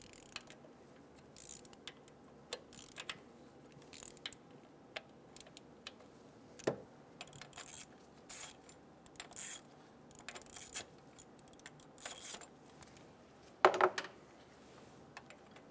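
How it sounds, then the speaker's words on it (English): Ratchet clicking in short bursts as 10mm bolts on a 2011-2014 Hyundai Sonata high pressure fuel pump are loosened a quarter turn at a time, faint and close with quiet gaps between. "Remove the 10mm bolts a quarter turn for the high pressure fuel pump."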